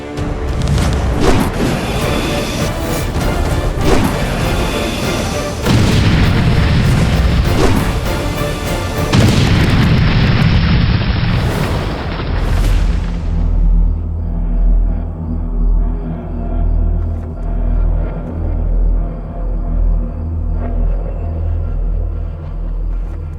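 Battle between Lakshman and Meghnad, with loud crashing impacts, booms and whooshing strikes of shot arrows in dense succession, then giving way to a deep sustained rumble with music.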